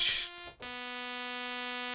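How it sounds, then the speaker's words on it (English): A virtual synthesizer oscillator holds a bright, buzzy sustained tone, briefly dips, then switches to a different waveform that drones on evenly and continuously, with no voices. "Isn't that a cool saw wave?"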